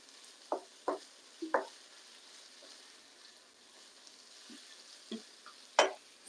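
Salmon frying in a pan while being stirred, with a steady low sizzle broken by several sharp scraping knocks of the utensil, spaced irregularly and fairly close.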